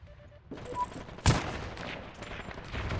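Gunfire in the Heroes & Generals shooter, a loud sharp shot cracks out mid-clip among scattered battlefield noise, with fainter shots and rumble around it.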